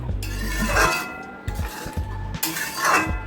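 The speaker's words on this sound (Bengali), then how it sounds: "এখন আমি একটা পাত্রে নামিয়ে নেব।" Cooked masoor dal and potatoes being scooped from a cooking pot into another pot, with repeated clinks and scrapes of metal utensils and cookware in bursts, close and moderately loud.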